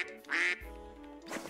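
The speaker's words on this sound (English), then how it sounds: "A to quack." A duck quacks in the Duck Detective video game, two short nasal quacks spaced about a second apart, close and clear with no talk.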